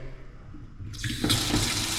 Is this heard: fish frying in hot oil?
no